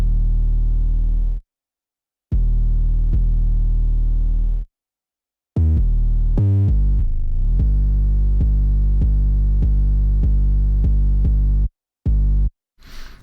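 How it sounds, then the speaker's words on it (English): Deep 808 bass notes standing in for the snare in a second verse of a hip-hop beat, booming loud sustained tones broken by short silences, with a quick stuttering fill and a gliding note midway. "I took out the snare and actually added a different 808 in instead"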